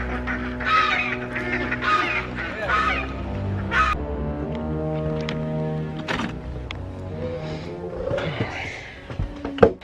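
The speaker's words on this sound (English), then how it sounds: "right now the ducks are getting in there eating the spinach that I'm trying to harvest" Ducks raid a rainy, muddy vegetable garden and eat spinach, giving repeated loud honking quacks and squawks close by, with a sharp burst near the end.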